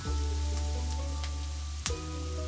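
Garlic paste frying in a pan as it is stirred, a steady close sizzle under a constant low hum, with faint scraping ticks and one sharper knock near the end; no talk.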